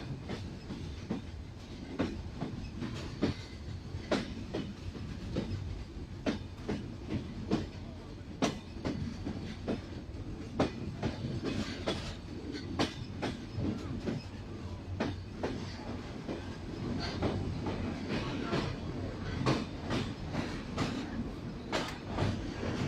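The Rupsha Express rolls into Noapara railway station, with a steady rhythmic clickety-clack of wheels over rail joints and a low rumble of the train cars, sustained and moderately loud throughout.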